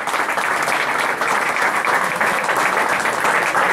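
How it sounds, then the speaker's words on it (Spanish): A crowd applauds the new La Salle club jersey at its presentation, with loud, dense, continuous clapping that fills the room and no break in it. "El aplauso, por favor, para la nueva camiseta de La Salle."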